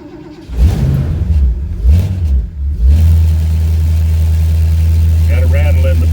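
A Ford Torino that has sat unstarted for a week, cold, cranks with a few uneven turns, fires up and revs before settling into a steady, loud idle close by.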